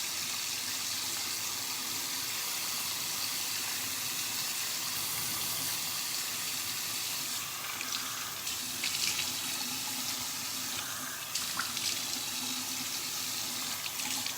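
Tap water runs steadily into a sink while a face is rinsed, a constant moderate hiss with light splashing changes partway through.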